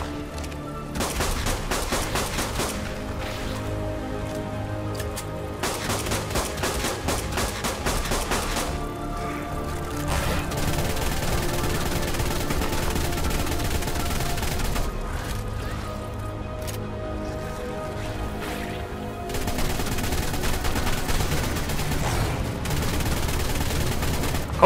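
Rapid bursts of shotgun fire in the video game Ark: Aberration rattle through the clip, closely spaced and fairly loud, with brief pauses between volleys over a dense game soundscape.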